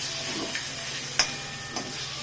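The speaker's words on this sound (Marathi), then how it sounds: "आणि टोमॅटो चांगला असा परतून घ्यायचा" Tomatoes sauté in a pan for chole masala with a steady, even sizzle, broken by a couple of sharp spoon clinks against the pan.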